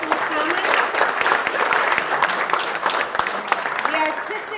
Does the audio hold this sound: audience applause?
yes